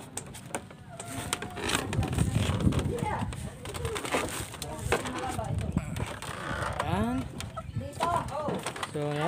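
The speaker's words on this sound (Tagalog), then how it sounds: "may mga alaga kasi yung bayo ko ng mga manok" Caged pet chickens at a house, clucking and calling in short repeated bursts from several birds nearby, with other fowl cooing and faint background noise mixed in.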